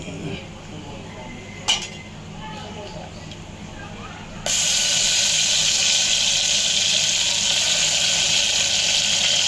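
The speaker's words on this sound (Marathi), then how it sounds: "तर आता यामध्ये वाटण घालून घेणार आहोत" Ground masala paste goes into a pot of Jain biryani, and after a faint clink the sizzling hiss jumps suddenly louder and stays loud and steady.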